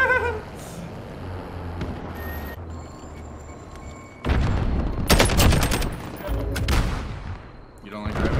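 Gunfire in the video game Warzone: a sudden burst of rapid shots starting midway, dense and loud, after a quieter stretch of game ambience with faint beeping tones.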